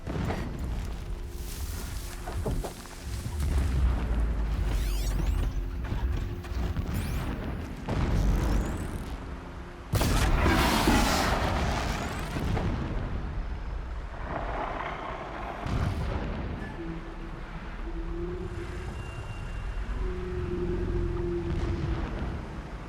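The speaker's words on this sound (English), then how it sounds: "Explosions in the distance." Deep, distant explosions boom and roll through a Horizon Zero Dawn game scene, several heavy low rumbles spread over a long stretch against a windy ambient background.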